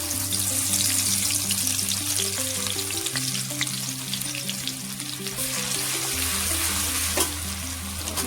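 Spices for a raw mango and green chilli pickle sizzle and crackle steadily in hot oil, a loud, continuous frying hiss with no talk over it.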